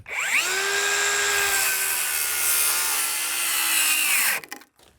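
A power saw bites through deck lumber in one sustained, loud cut with a rising whine that holds steady, then winds down abruptly near the end.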